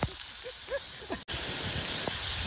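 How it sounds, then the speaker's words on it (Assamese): Steady rain falls at night during an outing to catch fish and crabs, a dense continuous patter broken by a brief gap, with a few faint chirps and splashes beneath the downpour. "চাওক না কেনেকুৱা বৰষুণ আহি আছে"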